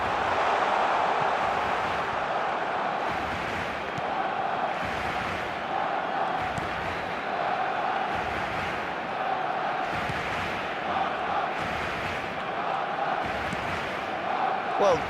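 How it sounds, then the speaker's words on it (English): A virtual stadium crowd in the eFootball 2026 football game, during a MiLiga match, keeps up a broad, impatient roar and rhythmic chanting throughout, with pulsing swells under commentary. "the crowd's impatience is an indicator that they haven't quite given up on a goal just yet"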